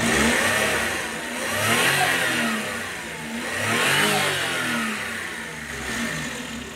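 A Suzuki Wagon DA64 turbo engine revs up and down in three loud, rising-and-falling surges, heard close with no one talking.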